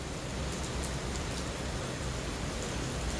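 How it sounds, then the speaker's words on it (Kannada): Rain falls around a building with a third-floor garden of banana trees, a steady, even hiss of drops heard alone and fairly loud for a few seconds. "ಮಳೆ ಬರ್ತದೆ."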